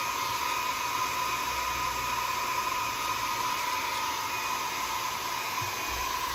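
Hair dryer blowing on a junk journal page, a steady loud whooshing hiss with a constant motor whine running unbroken throughout, no voices.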